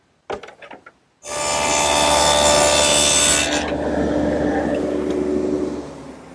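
A power tool cuts a 1/4-inch groove into a wooden drawer part for a plywood bottom, starting with a few brief knocks, then a loud sustained whining cut that eases into a lower, steadier hum before stopping.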